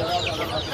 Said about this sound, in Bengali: এটা সিল্কি মুরগি ভাই